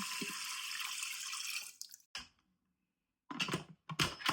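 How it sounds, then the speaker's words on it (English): Two cups of water pour into an Instant Pot onto rinsed buckwheat with a steady, close splashing rush that stops suddenly, followed by a short pause and then a few brief drips and splashes. "And then to that, we will add 2 cups of water."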